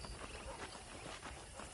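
Horse hooves clip-clop in the Western video game Red Dead Redemption, a quiet, steady trot lasting under two seconds beneath a wash of ambient game noise.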